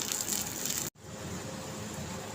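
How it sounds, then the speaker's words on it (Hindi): Water boiling in a covered pot for masoor dal kichdi: a steady, fairly loud hissing and bubbling that cuts out briefly, then resumes at a similar level. "ये देखें गाइस, हमारे पानी को बॉयल आ चुका है।"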